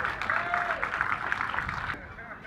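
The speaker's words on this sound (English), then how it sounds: "Ladies and gentlemen, please give these guys a round of applause." An outdoor festival crowd applauds chilli-eating contestants at a fire and spice event. Steady, moderately faint clapping runs alongside voices, then drops off slightly near the end.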